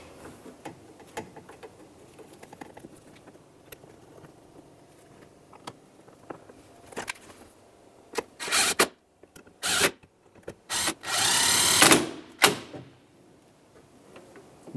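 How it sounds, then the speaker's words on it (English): Mounting bolts being driven and snugged on a 1998–2002 Lincoln Navigator tailgate, with faint ticks and clicks, then loud bursts of a power ratchet or drill whirring in short runs near the end. "Start in each of your 3 mounting bolts and then snug them up."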